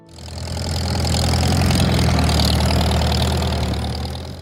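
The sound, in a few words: Farmall H four-cylinder tractor engine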